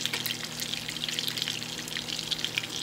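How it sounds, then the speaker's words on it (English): Bacon sizzles and spits steadily in a frying pan, a dense continuous crackle with scattered sharp pops, close and fairly loud, no voices. "Gotta make this bacon for my cabbage."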